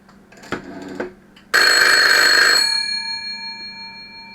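An old telephone on its hook rings after being called from another phone, one loud sustained bell burst after a short knock or two, then fading away.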